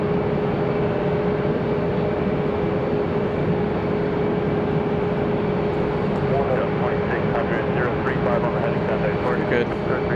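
A jet aircraft takes off from runway 5 left at Raleigh-Durham International, its engine roar steady and loud throughout, with a radio voice talking over it.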